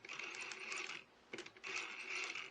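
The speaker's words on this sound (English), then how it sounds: "So anyway, I got everything back together. It's squealing." MJX H12P RC truck drivetrain squealing, faint high-pitched whirring in two bursts separated by a short pause and a click, close and alone.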